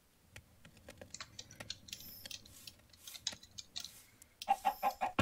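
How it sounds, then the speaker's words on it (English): A chicken in the Minecraft video game clucks a few times near the end, following a stretch of scattered clicky tapping like keyboard and controller input, with no talking. "Let's kill that chicken."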